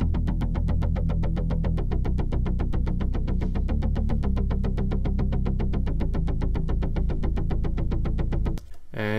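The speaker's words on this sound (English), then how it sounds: "This is the bass line that you hear in the first part of the chorus." A layered synth bass line from the chorus of a song remake pulses in fast, even repeated notes, loud and sustained without talk, cutting off abruptly near the end.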